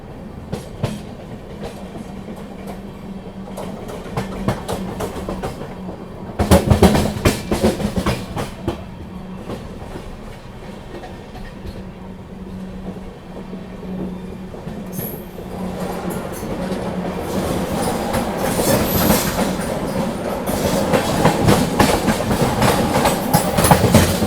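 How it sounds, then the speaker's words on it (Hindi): An Indian Railways Khajuraho–Nizamuddin Vande Bharat Express passes close by near Mathura Junction, with a steady rolling rumble, a rhythmic clatter of wheels over rail joints and bursts of louder rushing noise as the coaches go by, with no talk. "सामने से आ रही है खजुराहो निज़ामुद्दीन वंदे भारत एक्सप्रेस।"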